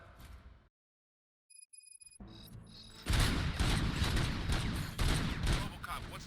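Gunfire in the video game RoboCop: Rogue City breaks out after a brief silence, a loud sustained fusillade of rapid shots that fills the final seconds.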